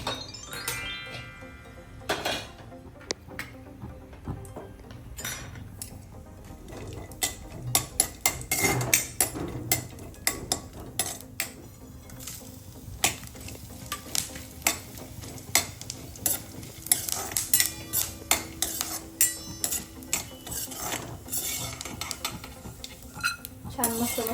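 Masala spices roast in a pan for mushroom masala, with a spoon scraping and clinking against the metal in irregular strokes over a faint sizzle, close and fairly quiet.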